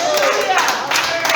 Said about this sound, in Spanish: Aplauda este mensaje.